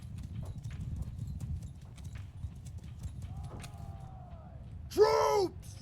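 Horses of a cavalry troop in the Mount & Blade II: Bannerlord battle game beat out steady hoofbeats, with a horse whinnying loudly near the end and a voice briefly talking.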